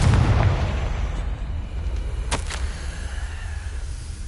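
A Confringo spell explosion in a Harry Potter video game opens with a heavy, booming blast whose low rumble fades over several seconds, and a couple of sharp crackling bursts follow.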